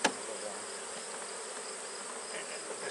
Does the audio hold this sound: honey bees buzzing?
yes